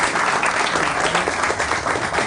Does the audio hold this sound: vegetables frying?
no